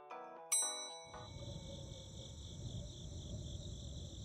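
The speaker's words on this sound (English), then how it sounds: "chirping sound come from over here. Crickets, maybe?" Crickets chirp steadily in the nighttime ambience of The Darkside Detective video game, a continuous high insect trill that begins right after a short run of bright chiming notes and a metallic clang.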